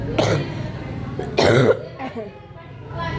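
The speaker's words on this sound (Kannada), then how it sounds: "ನನಗೂ ಇನ್ನೂ ಕೆಮ್ಮು ಕಡಿಮೆನೇ ಆಗಿಲ್ಲರಿ" A woman with a lingering cough lets out two harsh, close coughs a second apart, with faint voices in the background.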